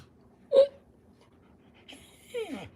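A dog whimpers and whines indoors in a few short, high, moaning bursts with quiet gaps between them, fairly close but not loud.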